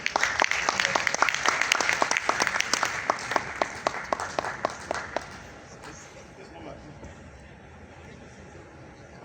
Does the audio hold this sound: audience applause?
yes